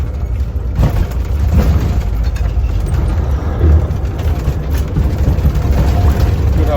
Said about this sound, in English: Sounds like that bloody front cadmium wants a bit of grease on this thing.